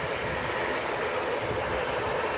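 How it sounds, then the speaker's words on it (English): A TUI Boeing 737-800 departing runway 23L at Manchester Airport produces a steady, loud, broadband jet engine roar, continuous and close throughout with no talk. "next to depart is the TUI Boeing 737 800 series off to Corfu"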